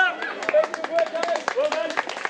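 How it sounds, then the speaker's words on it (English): An outdoor crowd at a Celts-versus-Romans warfare display in Caerleon claps for the costumed warriors, uneven close-up handclaps overlapping with talking voices. "Everybody give our warriors a clap."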